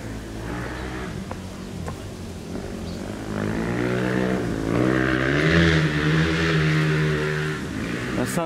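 Motorbikes riding around a lake area at a resort in Senegal: a steady engine drone that swells louder partway through, with wavering pitch as the bikes pass at moderate distance.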